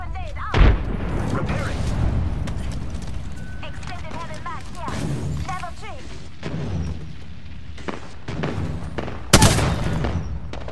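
Gunfire in the battle royale shooter Apex Legends, with repeated shots and bursts alongside sharp booms and mechanical clatter, set against a busy bed of game sounds and game voice lines.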